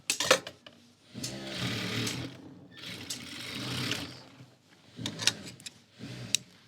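A sewing machine runs a double line of stitching on a pheran in several separate bursts, each a few seconds of close, loud motor whirring, with short pauses and some handling clicks between them.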